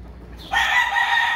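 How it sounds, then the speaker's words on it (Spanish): A rooster crows loudly and close by, a single sustained call starting after a brief quiet moment and holding steady to the end. "Miren qué belleza de gallo"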